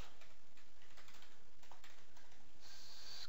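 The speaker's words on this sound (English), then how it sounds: "excuse my typing" Quiet, steady tapping of keys on a computer keyboard, a run of soft irregular clicks at close range with no voices.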